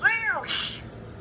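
A cat meows, its tail grabbed and shaken; a short, close cry with a rising-falling pitch, followed by a brief hiss-like burst.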